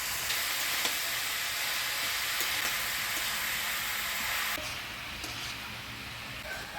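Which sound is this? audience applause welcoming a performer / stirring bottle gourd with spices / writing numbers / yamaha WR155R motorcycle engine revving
stirring bottle gourd with spices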